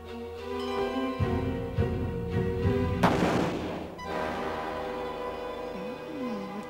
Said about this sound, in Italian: Conosco questo suono! È uno sparo!